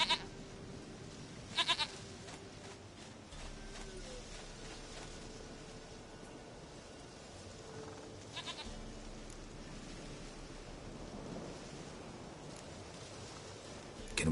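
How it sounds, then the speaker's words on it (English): A goat bleats faintly in the distance a couple of times over a steady low outdoor hiss, with brief rustles and no talking. "Goat of mine, dearest,"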